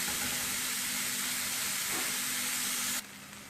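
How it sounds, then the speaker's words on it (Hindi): Chicken pieces sizzling in a pan while cooking for a samosa filling, a steady broad frying hiss that cuts off abruptly near the end, with no talking. "अब ये चिकन को तब तक कुक करूंगी जब तक इसका कलर चेंज नहीं हो जाता अच्छी तरह से।"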